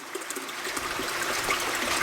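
Water from a WiFi-controlled top-up valve runs into a koi pond, a steady close trickling and splashing flow that swells slightly over two seconds, with no talking.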